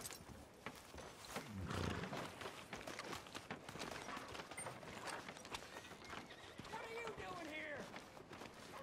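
A horse whinnies and snorts amid clopping hooves and ambient bustle in the video game Red Dead Redemption 2, with voices murmuring faintly in the background.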